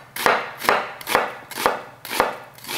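A knife cuts thinly through a raw red onion on a board, six crisp, evenly spaced chops in a steady rhythm, close and clear with no talking.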